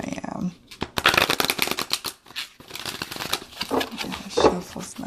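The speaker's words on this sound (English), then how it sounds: "It shuffles nicely." Tarot cards riffle and slap together in quick repeated bursts as a deck is shuffled up close, a steady flurry of crisp flicking.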